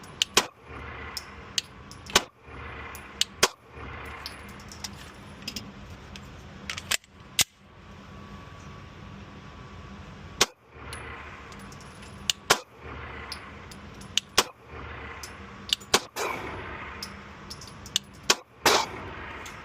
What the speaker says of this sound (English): So I took 5 shots to the right, 5 shots to the left